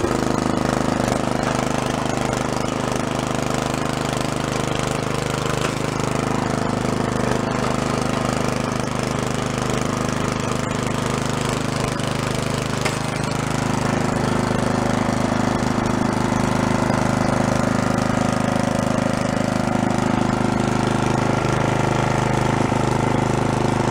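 A yard-sale tiller or push lawn mower's small engine runs steadily and loud, a continuous rough chugging drone throughout with a slight change in tone partway through.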